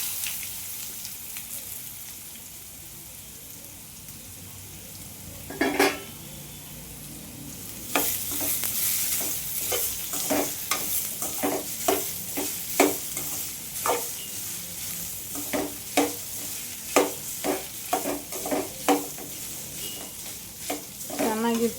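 A spatula stirs radish palya frying in a pan, with a steady low sizzle under a quiet kitchen backdrop and a series of sharp scraping strokes, scattered at first and then coming rhythmically every half second or so.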